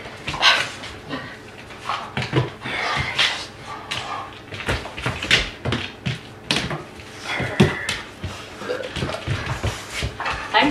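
A dog in training barks, yips, whimpers and pants in rapid irregular bursts throughout, close and loud, with a person's voice occasionally mixed in.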